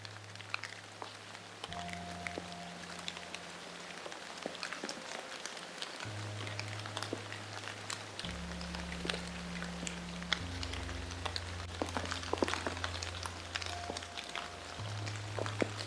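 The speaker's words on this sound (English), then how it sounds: "as you can possibly hear, the rain's actually got worse" Heavy rain pours beside Loch Chon in Scotland, a dense, steady hiss of patter and scattered drops with a low, wavering hum underneath and no voices.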